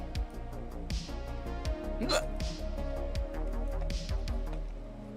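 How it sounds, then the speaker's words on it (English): A person with a bad bout of hiccups: several sharp, close hiccups recur at irregular intervals over a steady background hum, with one louder, voiced hiccup near the middle. "I have the, like, supreme fucking hiccups"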